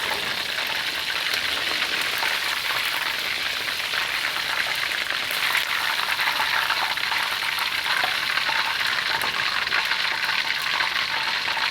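Sesame chicken pieces deep-fry in hot oil on an outdoor propane burner, giving a dense, steady crackling sizzle like rain on a surface. It is close and continuous, with no voices.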